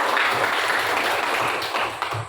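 Applause from a school audience at a presentation, a dense burst of clapping that holds steady for a couple of seconds and then thins slightly toward the end.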